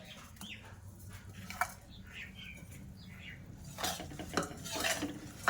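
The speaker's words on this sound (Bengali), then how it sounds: "দিয়ে একটু ভালো করে চিনি শিরার মধ্যে নাড়াচাড়া করে নেব।" Fried pitha cakes are stirred into cooled sugar syrup in a bowl, with quiet utensil clinks and scrapes and a couple of louder knocks near the end.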